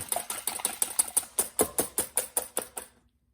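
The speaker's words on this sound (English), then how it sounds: "just whisk the eggs until they're nice and fluffy and pale yellow" Eggs with pepper whisked in a bowl for an omelette: a quick, even run of about sixteen close clicking strokes that stops abruptly, leaving silence.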